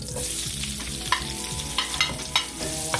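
Garlic and onion frying together in a pan over a lowered flame, a steady close sizzle with scraping stirs and a few sharp utensil knocks against the pan, no voices.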